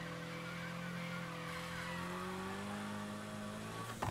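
Stock Mitsubishi Lancer Evolution X engine in a Need for Speed racing game, a steady loud drone with tone slowly rising under acceleration, ending with a brief burst of tire squeal or skid.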